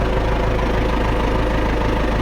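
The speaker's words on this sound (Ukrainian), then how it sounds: "Моторчик гріється, стрілочки стоять. І це на холостих оборотах." An MTZ tractor engine idles at its first start after two cylinder sleeves were replaced, a steady, close, low rumbling idle with an even rhythmic knock and no voices.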